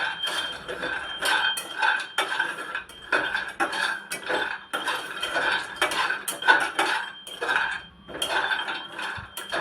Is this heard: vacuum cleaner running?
no